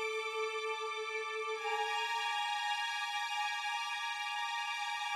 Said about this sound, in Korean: 하프 소리가 나오네요